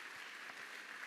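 A church congregation applauds briefly, a soft and distant wash of many hands clapping steadily for about a second.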